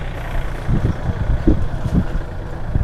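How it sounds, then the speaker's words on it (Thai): A tractor towing a trailer at a cassava yard runs its engine, giving a steady low rumble with uneven thumping pulses, fairly close and continuous, with no talk over it. "ตรงนี้เป็นรถรถไถพ่วงนะครับรถไถพ่วง"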